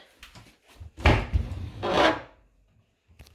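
Wooden drawers in a clean, empty piece of furniture sliding open and shut, two loud rubbing wooden scrapes close by with a few softer knocks before and after, no talking.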